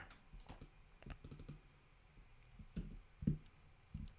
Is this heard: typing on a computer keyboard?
yes